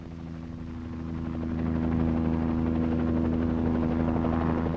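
A helicopter flies close overhead in a film scene set over lion country, its steady rotor thump and engine drone swelling over the first two seconds, then holding loud and continuous.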